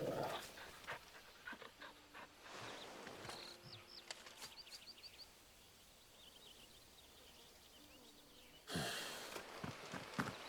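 A dog pants in the video game Final Fantasy XVI, with rapid breathy bursts that come and go over a steady outdoor ambience and a louder rush near the end.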